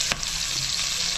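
Pork browning in a pan as onion and garlic are added and sautéed, a steady loud hiss of frying with a quick stirring scrape near the start, close and continuous.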